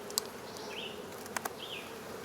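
Bees buzz faintly inside a cardboard nuc box, a low steady hum with a few sharp clicks and knocks breaking through.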